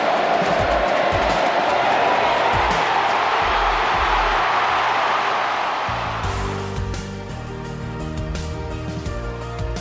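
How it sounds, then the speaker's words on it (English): Football stadium crowd cheering for Stephen Milne, a loud continuous roar of massed voices that carries on for several seconds before music takes over and the roar fades beneath it. "Listen to the crowd."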